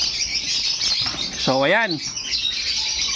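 Birds at a pet market chirp in a steady high twittering bed, with a brief spoken interjection in the middle.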